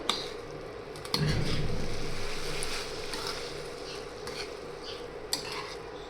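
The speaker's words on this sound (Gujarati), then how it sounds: "અને સારી રીતે હલાવીને મિક્સ કરી લેશું" Leftover roti cut into noodle strips being stirred and mixed in a pan, a steady scraping and shuffling of utensil against pan with soft clinks, close and continuous for several seconds.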